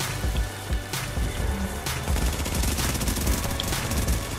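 Rapid gunfire from SMGs and rifles in a PvP firefight in the video game The Division, a dense, continuous, loud burst of shots with no clear gaps.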